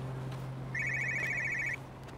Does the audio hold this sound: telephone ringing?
yes